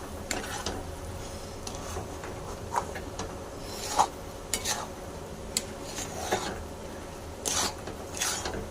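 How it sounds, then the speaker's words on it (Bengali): Ghee being stirred into a thick, sticky homemade sweet mixture in a pan: scraping and clinking spoon strokes against the metal at an irregular pace, close and moderately quiet, with no talking. "এবার দিয়ে দিলাম অল্প ঘি ভালো করে মিক্স করে নেব"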